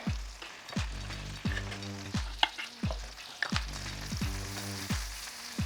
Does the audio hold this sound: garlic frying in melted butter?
yes